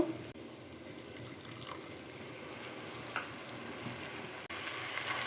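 Salt and spice paste sautéing in a pan for koi fish bhuna, a steady low sizzle and frying hiss running throughout with a few faint scraping stirs, fairly quiet and without voices.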